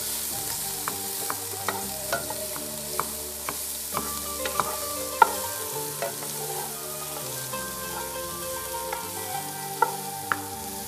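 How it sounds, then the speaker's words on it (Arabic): Onions fry in a pan for Gulf-style chicken kabsa, a soft, steady sizzle with scattered small pops and clicks, heard beneath a background of music. "هلا عم ببلش يهتري البصل"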